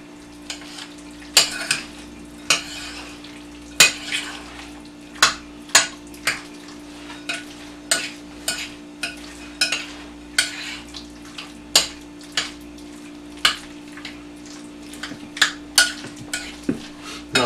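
Potato salad being stirred in a large bowl, Appalachian style: repeated scraping and clattering strokes of a spoon against the bowl in an irregular rhythm, close and fairly loud, with a steady low hum underneath and no talking.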